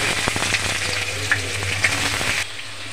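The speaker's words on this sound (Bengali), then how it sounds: "এর মধ্যে দিয়ে দেবো আগে থেকে কোচানো পেঁয়াজ।" Chopped onion frying in oil after a curry leaf and mustard seed tempering for poha upma, a steady close sizzle with occasional stirring clicks, cutting off abruptly near the end.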